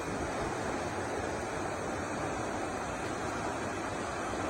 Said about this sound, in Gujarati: વરસાદી પાણીની આવક થતા રમાઘાટ ડેમ છલકાયો છે, ઓવરફ્લો થયો છે